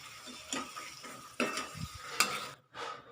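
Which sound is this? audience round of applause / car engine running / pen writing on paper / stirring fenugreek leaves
stirring fenugreek leaves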